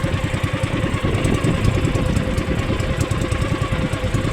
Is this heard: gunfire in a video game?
no